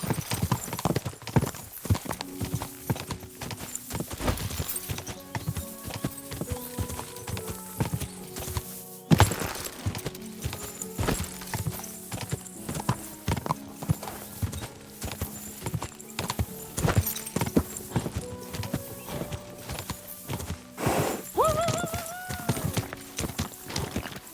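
Hooves clatter in a quick, steady clip-clop rhythm in Kingdom Come: Deliverance II, with occasional whinnies and game-like sound effects layered on top, loud and close throughout.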